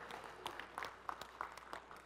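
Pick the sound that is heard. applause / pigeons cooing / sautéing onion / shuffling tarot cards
applause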